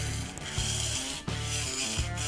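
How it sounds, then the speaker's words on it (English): A kitchen knife grinds back and forth across a whetstone in long, even rasping strokes, close and steady, with short pauses where each stroke changes direction. "We're going to place the knife onto the stone, applying downward pressure as we push it away from us"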